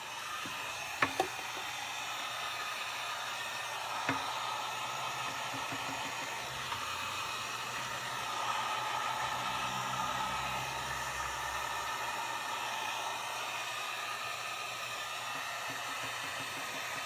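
A heat gun blows steadily on alcohol inks spread over yupo paper, a constant airy hiss with no talk, broken only by a couple of faint clicks near the start.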